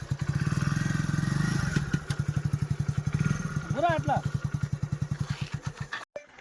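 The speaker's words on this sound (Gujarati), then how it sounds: "ઘણી બધા બાઈક આવે છે" Motorcycles go past near a roadside hotel, their engines chugging in a steady, close, pulsing rhythm that fades slightly toward the end, while people talk over the noise.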